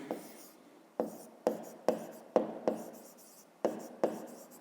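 Pen or pencil writing numbers by hand for a fifth-grade math exercise, heard close up as a series of short scratchy strokes, each starting with a sharp tap and trailing off, about eight in a row with no talking.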